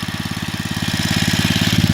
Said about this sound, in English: converted my generator to propane today